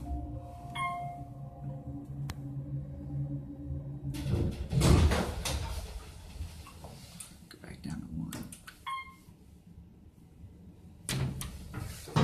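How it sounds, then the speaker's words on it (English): The counterweighted door of a 1992 Otis hydraulic elevator slides and thuds shut with a rumbling rattle, followed by clunks and knocks of the car, close by, with a few beeps and chimes near the start. "It's got a counterweighted door."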